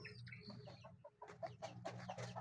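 Chickens cluck nearby in short, irregular bursts, several birds calling over one another against a low background hum.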